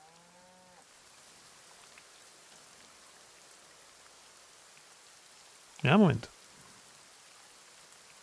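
Steady rain in the farming game Farming Simulator 19, heard from outside a switched-off tractor: an even, faint hiss of falling drops throughout, with a short burst of speech near the end.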